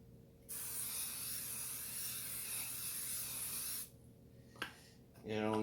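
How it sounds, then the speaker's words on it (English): Non-stick cooking spray hisses onto a baking pan for peach cobbler bread pudding in one steady burst of about three seconds, close and clear, followed by a brief clatter and a voice starting at the end. "We're gonna go ahead and we're gonna spray a little non-stick spray on there."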